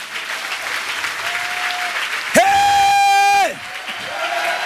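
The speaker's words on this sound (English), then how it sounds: "let's give the Lord a hand clap of praise" Church congregation claps in praise at a service, a steady wash of applause with a loud sustained organ or keyboard chord swelling in the middle, cheering voices faintly mixed in.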